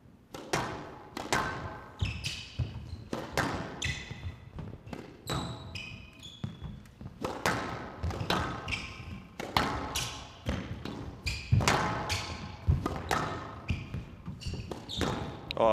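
Squash ball at the 2015 PSA World Championships, professional match play with repeated sharp thwacks off rackets and walls in a rally rhythm, crowd and commentary faint in the background.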